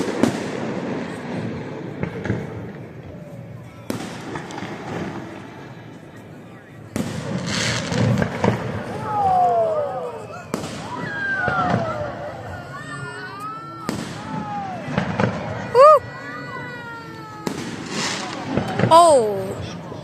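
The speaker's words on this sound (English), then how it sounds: "We're doing fireworks this time." Baseball-type fireworks burst repeatedly outdoors: loud sharp explosions and crackling with whistling streaks, spaced every couple of seconds, while people chatter and react nearby.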